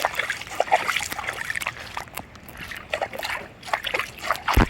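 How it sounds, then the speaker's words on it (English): Water splashes and sloshes in uneven bursts nearby, with trickling and dribbling between louder splatters and a heavier splash at the end, heard outdoors during a thunderstorm. "Oh, that's water."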